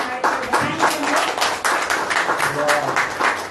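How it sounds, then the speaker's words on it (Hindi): Congregation clapping during a church service, a loud burst of claps with uneven rhythm and voices mixed in underneath. "एक जोरदार ताली बराबर के लिए"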